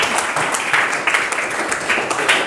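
A school audience gives steady clapping that fills the whole stretch, with a dense and fairly loud patter of many hands and no voices over it.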